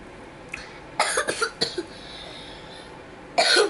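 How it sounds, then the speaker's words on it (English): Several sharp coughs in a quick cluster, then one more hoarse cough after a pause, fairly close and with no talking. "Just having coughing problems."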